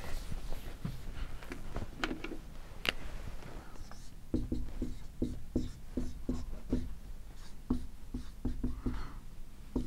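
Chalk or marker scrapes and taps on an economics lecture board in quick, irregular strokes as writing is erased and redone, close and fairly quiet.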